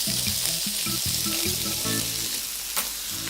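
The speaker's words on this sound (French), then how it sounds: "Voilà, la plancha est bien chaude. On verse le bœuf dessus." Beef seared on a very hot plancha with garlic, giving a steady, close, loud sizzle and spitting fry that runs the whole time, with a few scraping stirs and one sharp clatter near the end.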